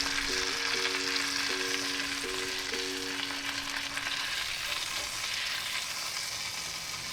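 Steak cooks in a hot pan with a dense, even sizzle that holds steady throughout, while a faint repeating tonal beep pattern runs over the first few seconds.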